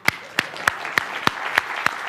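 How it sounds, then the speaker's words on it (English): Slow, evenly spaced claps, about seven sharp hand strikes at a steady rhythm, sounding like a sparse round of applause at a front-end tech talk, with no talking over them. "Or a round of applause"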